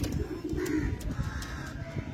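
Kalsera old-line pigeons coo in soft, low, throaty bursts, close by but fairly quiet, with light rustling and faint background noise.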